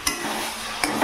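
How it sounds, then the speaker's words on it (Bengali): A spoon stirs taro leaf curry cooked with a fish head in a pot, two quick scraping clinks against metal over a low steady simmering hiss, close by and alone. "মাঝে মাঝে একটু নাড়িয়ে দিচ্ছি যাতে তলায় না লেগে যায়"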